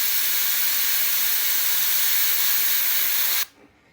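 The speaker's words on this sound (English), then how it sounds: "So just a quick little spray across the back" An old, somewhat inconsistent airbrush sprays paint across the back of a shad-colored crankbait lure, giving a loud, continuous close hiss that cuts off abruptly near the end.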